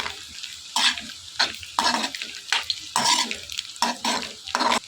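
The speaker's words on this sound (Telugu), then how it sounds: "పసుపు వేసుకొని మొత్తం మిక్స్ చేసుకోవాలి" Spoon stirring turmeric into egg noodles frying in a pan, with a steady sizzle broken by repeated scraping strokes at an irregular rhythm, close and fairly loud with no voices.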